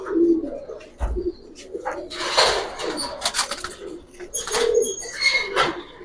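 Giribaz pigeons coo in a loft, with soft repeated calls, brief chirps and a flutter of wings close by, while people talk over and between the birds.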